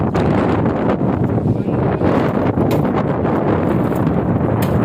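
Strong wind buffets the microphone at a monopole antenna tower, a constant loud roaring gust noise throughout with no pauses.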